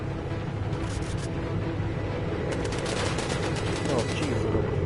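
Rapid cannon fire from a bomber's gun turret in the World War II air-combat game Bomber Crew, a dense, continuous stream of shots rattling steadily throughout with no pauses.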